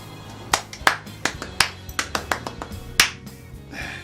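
Actor Wi Yang-ho performs the Korean 3-3-7 clapping pattern for a charity donation relay: a close, sharp run of about a dozen hand claps in grouped bursts, ending in a softer rustle.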